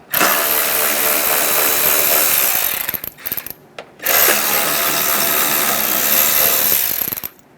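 Power tool running steadily while removing 7mm bolts from the fog light area of a 2014-2018 Chevrolet Silverado 1500, loud and continuous with a brief stop-start break midway, no talk.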